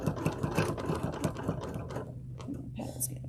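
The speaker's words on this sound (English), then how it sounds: "I'm going to sew back up my line." Sewing machine stitching a line on an applique block, a quick run of rhythmic needle clatter that slows and stops, followed by a lower mechanical hum, with a voice speaking softly alongside.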